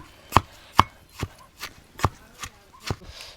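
Green chili thecha is pounded by hand in a mortar, giving about eight heavy, evenly spaced thuds, loud and close, with a brief bit of background voice.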